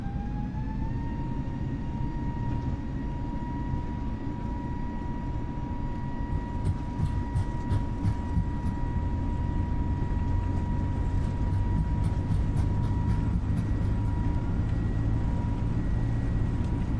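An Airbus A321neo rolls down the runway for takeoff in Microsoft Flight Simulator, a steady loud engine roar with rising whine tones, joined partway through by a rapid irregular rumble of rolling wheels.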